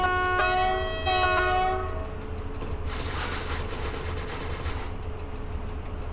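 Train horn in Train Driver 2, where a mail train sounds a few long harmonic whistle blasts, two separate toots in quick succession, over steady rumbling rail noise; the horn then fades into the continuous rolling sound of the moving train.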